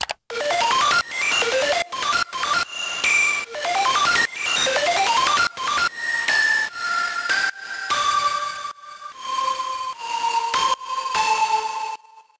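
Square-wave synthesizer lead from a remake plays a fast run of bright, buzzy notes in choppy, rhythmic bursts, then settles into longer held tones toward the end.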